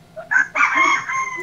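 A rooster crows once, close and loud, a short rising and sustained call lasting about a second.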